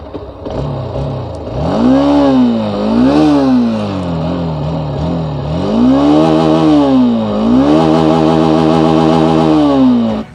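A Hero Xtreme 160R motorcycle engine revs repeatedly up and down through its exhaust, loud and close, with smooth rising and falling engine tone and no talk.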